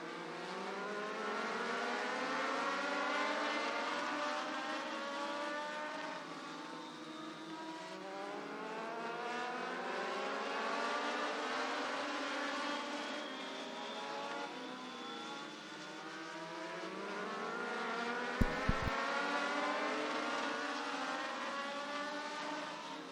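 A pack of Legend race cars circles Atlanta Motor Speedway, engines droning and sweeping up and down in pitch as they pass at a distance, steady for the whole stretch, with a couple of sharp clicks late on.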